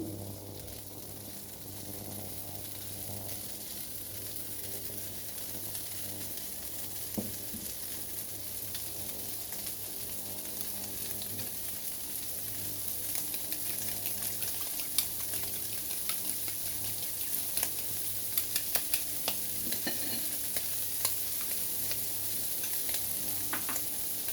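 Egg being stir-fried with shrimp in a pan gives a low, continuous sizzle with scattered clicks and scrapes from stirring, growing a little busier toward the end, with no voices.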